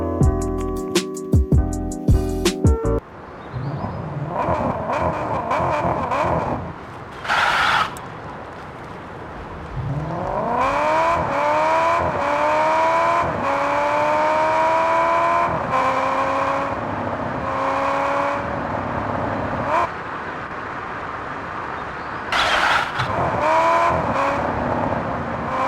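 Car engine in the Car Parking Multiplayer video game revs repeatedly, pitch rising and falling through several sweeps, loud and continuous after a brief burst of menu noise at the start.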